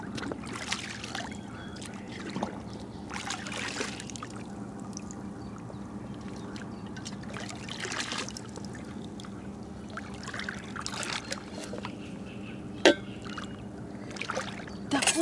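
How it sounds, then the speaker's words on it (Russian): A dish being washed in water outdoors at a campsite, with repeated splashing, pouring and trickling in irregular bursts close by. "Сейчас как бы помою ее прям, ну, от такого, от плохого, от жира там, от всего."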